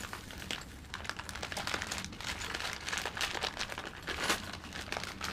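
A blade cuts off an old strap from a plastic Wrangler TJ gas tank, giving close crackling, crinkling scrapes and snaps that continue in an irregular rapid texture, fairly quiet.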